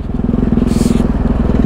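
Yamaha MT-03 660 motorcycle riding along, its engine a steady, loud, rhythmic throb with a brief rise in higher rushing noise midway, close and continuous throughout.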